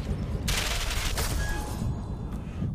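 Gunfire in the video game Ghost Recon Phantoms, a dense burst of loud shots starting half a second in and rattling on steadily with a few sharper cracks, game effects layered throughout.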